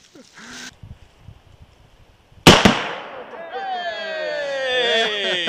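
A rifle shot strikes an explosive target outdoors, setting off a sharp, loud blast that rings out and decays, followed by excited voices and cheering; a smaller shot-like crack comes just before.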